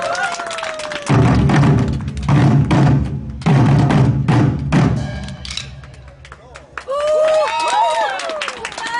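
An outdoor crowd at a school alumni sports day applauds a nanta drumming troupe in two strong bursts of clapping with a low rumble beneath, then it fades while an amplified voice talks.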